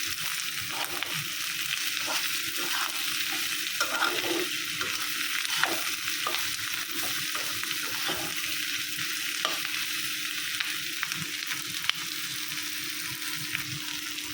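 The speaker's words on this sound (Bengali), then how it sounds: "এই যে সব কিছু মিশাইয়া একদম ভাজা ভাজা করে নিচ্ছি" Dried fish frying with garlic and onion in a pan, a steady bright sizzle running throughout with regular stirring scrapes and clinks, close and continuous, with no talk.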